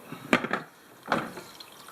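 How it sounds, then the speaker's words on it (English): Water gushes out past the gasket of a Yeti Roadie 20 cooler in two short splashing bursts, close and fairly loud, with a quiet pause between them. "it's certainly pouring out of there at a fast rate"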